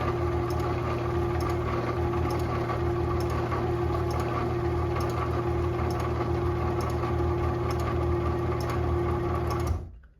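A Moore-O-Matic Ultra Lift garage door opener motor runs steadily as it drives the door down the rail. The hum and drone is close, continuous and fairly loud, then cuts off abruptly at the end.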